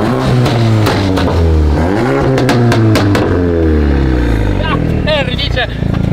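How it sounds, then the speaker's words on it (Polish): Modified 2024 VW Golf with aftermarket exhaust, intake and intercooler, revving hard in loud rising and falling sweeps, then sharp pops and crackles, close up with voices talking over it. "Zobaczycie, jak chodzi wydech."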